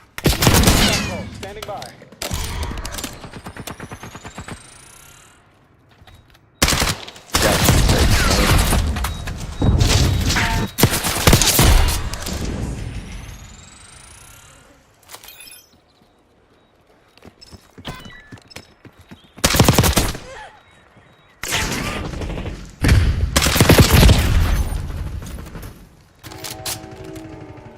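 Bursts of video-game gunfire come in loud broadband volleys separated by short quiet gaps, with a voice speaking briefly between them.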